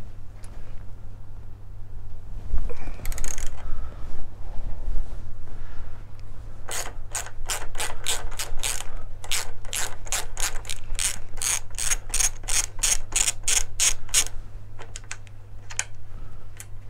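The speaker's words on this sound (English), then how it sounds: "And I'm going to start undoing the suspension bolt." A ratchet clicks in quick, sharp bursts while undoing a suspension bolt on a Triumph Thruxton R motorcycle, the close clatter coming in rapid repeated strokes over a low steady hum, after a brief metallic clunk.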